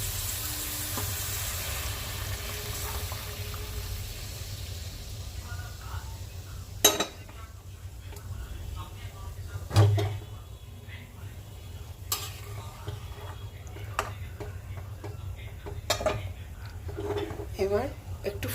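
Thickened milk poured into a pan of carrot halwa, followed by soft stirring, faint sizzling and occasional clinks of a utensil against the pan, with a voice talking throughout.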